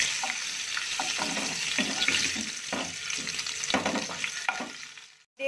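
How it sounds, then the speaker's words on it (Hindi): Oil sizzles and crackles steadily as eggs fry in a pan, with soft scraping knocks now and then, before the sound cuts off abruptly. "ये मैं इस ऑयल में डाल दूंगी, डाल के अच्छे से मैं इसको फ्राई कर लूंगी।"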